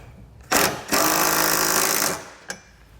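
A socket wrench drives the bolts on a Curt trailer hitch receiver fitted to a 2017 Hyundai Accent. It gives a loud, buzzing burst of about a second and a half after a short first blip, then one sharp knock.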